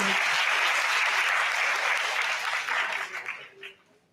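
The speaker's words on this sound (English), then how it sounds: "could you please give a round of applause?" An audience at an integrity and anti-corruption talk breaks into dense, loud applause that holds steady for several seconds and then tapers off to silence.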